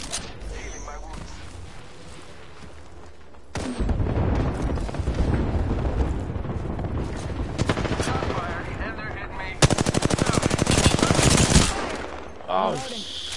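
Gunfire in Apex Legends, with sustained rapid automatic bursts and heavy shots mixed with booms, fairly loud and continuous, while players talk excitedly over the shooting.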